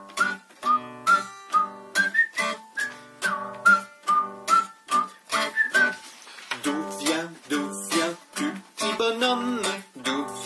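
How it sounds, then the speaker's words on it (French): A person whistles the introduction of the French children's song "Le petit bossu", a lively melody of short, clear phrases with brief gaps, followed by breathier, fuller notes toward the end. "Petite introduction d'abord en sifflant."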